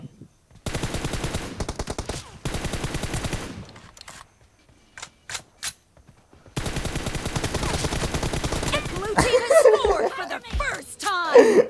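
Rapid automatic gunfire from a mobile shooting game sounds in bursts, some long, some short single shots, with pauses between and chuckling voices near the end.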